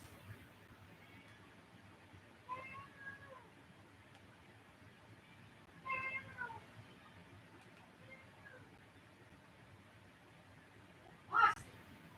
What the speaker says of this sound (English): There's some bossy cats.